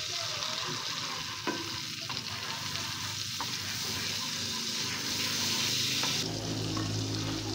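Margarine melts in a frying pan with a continuous close sizzle and soft stirring scrapes, and the hiss grows louder and brighter toward the end, with no one talking.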